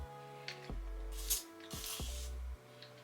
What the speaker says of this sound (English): We're gonna spray some water.